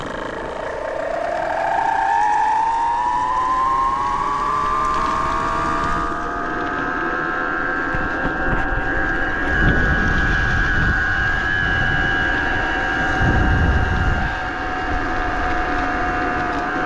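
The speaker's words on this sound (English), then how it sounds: "Let's ride it back up the hill." A 72V BBS02 mid-drive electric bike motor pulls uphill with a steady rising whine that climbs in pitch and holds, heard up close over rumbling wind and road noise with no talking.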